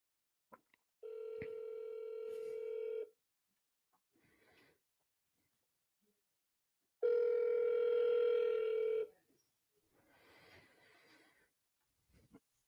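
On a sales call, a telephone rings out unanswered in two long steady tones several seconds apart, clear and fairly loud, with faint clicks and rustling between them and no talking.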